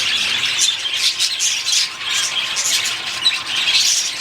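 A pet budgie squawks and chirps in quick, continuous bursts. The bird is close and fairly loud, and no talking is heard over it.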